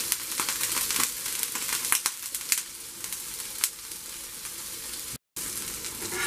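Fish fries in a little oil in a pan, one side cooking, giving a steady close hissing sizzle with scattered pops and crackles throughout.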